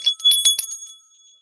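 A small handheld bell is shaken in a quick cluster of bright, close metallic rings that fade into a lingering high tone within about a second.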